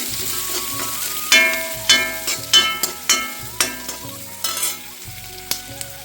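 Onions sauté in a pan for a Kerala-style potato stew, a soft sizzle running underneath while a spoon scrapes and knocks against the pan in irregular bursts. A faint tonal background sound plays throughout.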